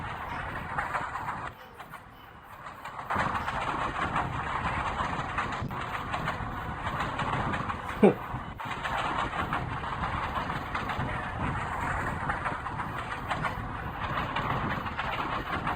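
A video game locomotive in a realistic Indian train driving game gives a steady, rumbling engine drone with a faint rhythmic clatter over the rails, briefly dipping quieter before resuming at even volume.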